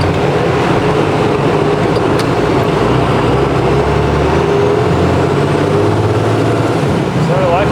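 A diesel pickup truck cruising down a road, heard from inside the cab as a constant low engine drone with road rumble, steady and moderately loud throughout with no talk.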